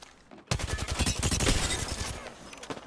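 A Sheila minigun firing in Apex Legends, a sudden loud, sustained stream of rapid heavy rounds that starts abruptly and rattles on close by for a few seconds.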